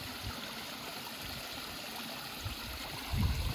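Steady rushing of a cliff waterfall and stream flowing continuously near Ban Na Ang in Thailand, with a low rumble swelling briefly near the end; no voices.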